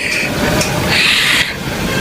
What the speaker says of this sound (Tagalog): Nandito na ako ngayon sa daraanan ng tren.